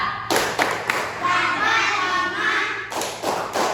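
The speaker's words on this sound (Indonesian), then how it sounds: "Coba tepuk ini dulu. Tepuk simbol Pancasila." Schoolchildren in a classroom perform a rhythmic Pancasila symbol clap: sharp bursts of hand claps and thumps in patterned groups, close and loud, mixed with young voices chanting along.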